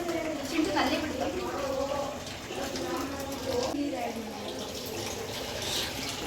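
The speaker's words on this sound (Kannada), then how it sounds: "ನಲ್ಲಿ ಬಿಡ್ತಾ" Water runs from a kitchen tap in a steady, continuous splash during cooking, moderately close, while people talk over it.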